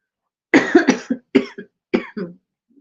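A woman coughs in a rapid fit of several harsh, close coughs in uneven bursts, then trails off to a faint final sound.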